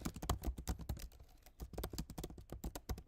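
Rapid, continuous clatter of computer keyboard typing, close and crisp, with steady bursts of keystrokes and a brief pause in the middle, no voices.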